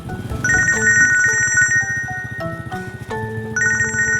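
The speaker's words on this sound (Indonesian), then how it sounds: "Maaf, ada telepon." A phone ringtone playing loud and close, a bright repeating electronic melody with steady beeps and chimes.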